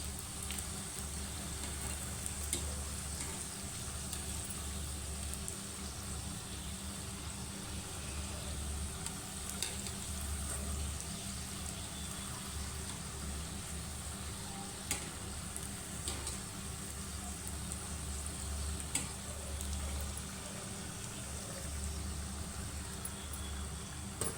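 Karanji filling is sautéed and stirred in a pan, making a faint, continuous low sizzle with occasional soft scraping clicks over a long, even stretch.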